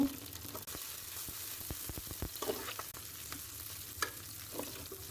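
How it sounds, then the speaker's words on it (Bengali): Browned onions and fresh green chilies fry in a pan, crackling and sizzling up close in a steady bed of spatters with sharp pops, with no voice. "পেঁয়াজটা আমি ব্রাউন কালার করে ভেজে নেব"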